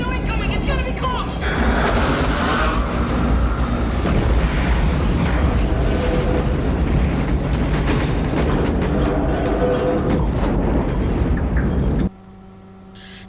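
Torpedo detonation from the submarine film Crimson Tide, a long, loud rumbling blast that swells and roars for several seconds before cutting to a low, quieter hum.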